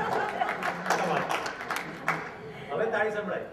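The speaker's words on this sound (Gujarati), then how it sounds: "હવે તાળી સંભળાય." A Gujarati spelling bee audience gives a brief round of clapping, moderately loud and scattered, with a voice speaking over and after the claps.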